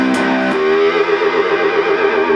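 Electric guitar played through a Blues Breaker 2 distortion pedal, a few picked notes and then a sustained, saturated chord ringing with rich harmonics and slight wavering, alone with no talk.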